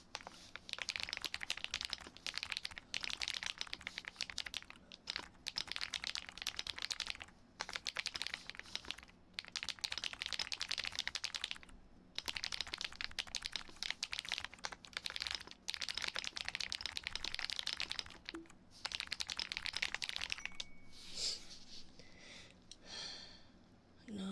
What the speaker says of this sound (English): you just heard the sounds of the keyboard in the game